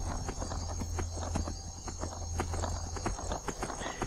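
Steady clip-clop of horse hooves at a brisk gait while riding through the Skyrim video game, an even rhythmic beat under a low background drone, no talking.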